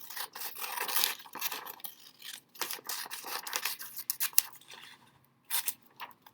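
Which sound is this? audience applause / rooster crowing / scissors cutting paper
scissors cutting paper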